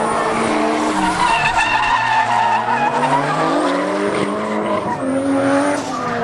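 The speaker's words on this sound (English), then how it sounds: "just so much smoke from the drifting going on over there" Cars drift at a drifting event at Driven Winnipeg 2018, their tires squealing in long, loud, wavering screeches over engine roar, rising and falling for several seconds with no talk.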